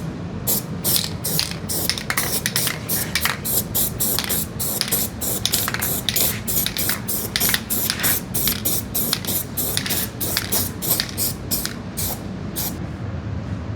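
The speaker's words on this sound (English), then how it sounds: "I'm just gonna spray some of this weld through primer along the bottom, just this bottom edge here" Weld-through primer hissing from an aerosol spray can along the bottom edge of a new nose panel on a 1969 VW Bus, in a rapid series of short close bursts with no talk.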